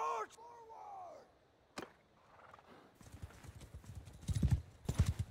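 Rapid hoofbeats of galloping horse archers build up loudly in rhythmic thuds after a few electronic whooshes and a sharp impact, sound effects from the game Mount & Blade II: Bannerlord.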